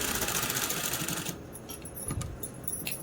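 A sewing machine stitching the waistband casing of a Patiala salwar runs loud and steady up close, then stops and gives way to a few light clicks and handling sounds.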